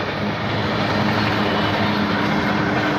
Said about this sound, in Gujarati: આ રેલવે લાઈન જો બાજુમાં જ છે આરો આ ટ્રેન હાલી જાય છે